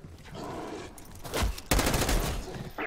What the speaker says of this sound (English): You hear any gunfire?